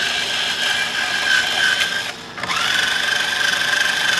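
Guitar string winder spinning on the tuners of a Made-in-Japan Jackson guitar as the old strings come off, a continuous whirring rattle with a brief pause in the middle before the winding resumes, close and alone.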